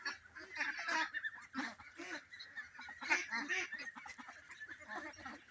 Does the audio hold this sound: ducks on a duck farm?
yes